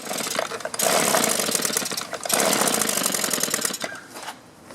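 A two-stroke string trimmer engine with old fuel runs with choke just switched off, a loud, rough, sputtering drone that surges and dips unevenly before dropping away near the end.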